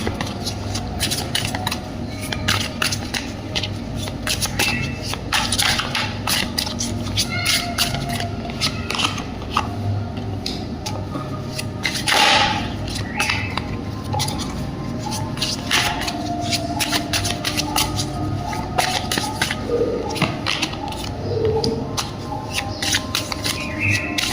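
Tarot cards shuffled by hand, a steady, close and fairly loud stream of riffling, flicking and sliding card sounds that runs without a break for over twenty seconds, with no talking.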